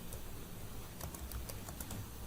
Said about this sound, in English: and typing an address